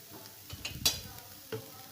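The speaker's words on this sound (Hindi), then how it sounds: "चिकन को भी फ्राई कर लें।" Chicken pieces frying in a pan for samosa filling, a soft sizzle with a few brief stirring scrapes and clinks, close and quiet, no talking.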